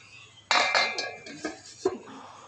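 Metal lid set onto a cooking pot of rui posto fish curry after the gas is switched off: a sharp clattering clank, then a few lighter rattles and clinks as it settles, close and brief.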